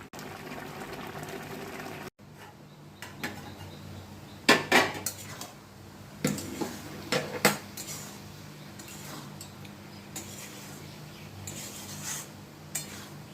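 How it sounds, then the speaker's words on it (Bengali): Metal dishes clatter and clink as a metal plate is set over a pot of cooking shyama dana khichuri, with several sharp knocks spread among quieter kitchen sounds and no talking. "আবার থালা দিয়ে আমি ঢেকে দেব।"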